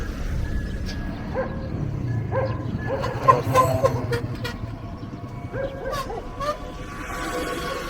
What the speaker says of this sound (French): Son aboiement l'a fait peur.